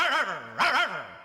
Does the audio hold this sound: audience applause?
no